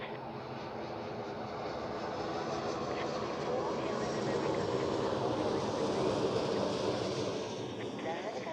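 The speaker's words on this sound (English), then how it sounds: "I really like the A330 when it comes in for landing" Airbus A330 coming in to land at Zurich Airport, a steady broad engine roar with wind noise, building slightly toward the middle and heard from a distance.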